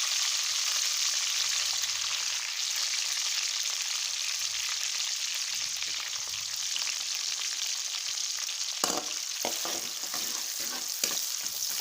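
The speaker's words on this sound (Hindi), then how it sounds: "प्याज की हम फ्राई कर लेंगे," Onions sizzle and fry steadily in hot ghee in a pan while making plain rice, a continuous close hiss with a few stirring scrapes toward the end.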